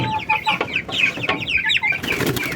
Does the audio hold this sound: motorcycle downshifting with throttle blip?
no